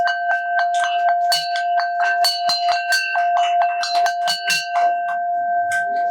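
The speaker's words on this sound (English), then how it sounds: "Ring the bell as many times as you like." A bell rung over and over in quick, bright strikes for several seconds, each clear ringing tone overlapping the next, fairly close and alone without talk.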